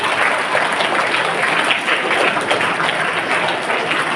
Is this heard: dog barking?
no